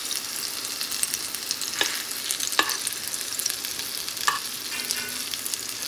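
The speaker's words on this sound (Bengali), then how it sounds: "এরকম করে ছড়িয়ে দিই, তাহলে অনেকগুলো বড়া একসঙ্গে ভাজা যাবে।" Lentil fritters (bora) fry in hot oil with a dense, continuous sizzle and several sharp crackles and pops, close and steady with no voices.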